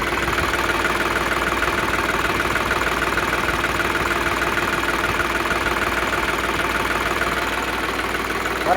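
Steady close idle of a New Holland 3600 tractor diesel engine, an even knocking chug running unbroken and loud throughout with no voices.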